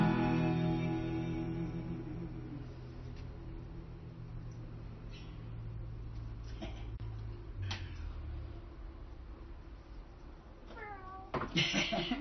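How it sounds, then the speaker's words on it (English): A cat meows repeatedly, several short calls spread across the clip and clearer toward the end, heard over a fading low musical drone. "Oh, there's a cat."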